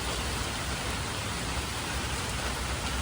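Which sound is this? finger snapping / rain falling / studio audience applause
rain falling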